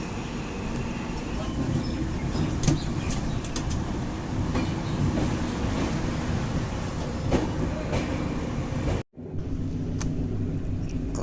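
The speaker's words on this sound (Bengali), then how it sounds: "মালদা টাউন ছেড়ে যাচ্ছে ট্রেন" A passenger train pulls out of Malda Town station and runs on the rails, a continuous low rumble with rhythmic clacks heard from inside the carriage, broken by one brief dropout near the end.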